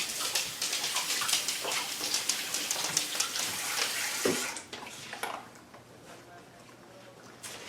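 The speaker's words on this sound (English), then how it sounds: "Now I'm going to rinse my hands." Water gushes from a tap as hands are rinsed under it in a kitchen, a loud steady splashing for several seconds before it is shut off and a quieter room remains, with a voice speaking.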